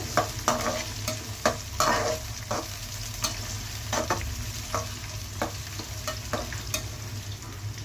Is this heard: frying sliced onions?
yes